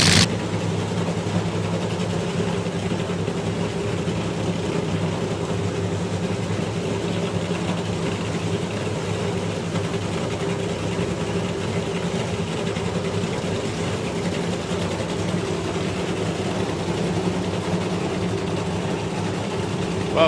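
A drag racing car's huge engine, with a short wheelbase and carbon fibre body, idles with a steady, loud, low rumble that stays constant throughout without letting up.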